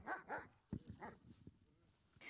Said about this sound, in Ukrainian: Близько до кордону чужих не підпускає пес Рокі.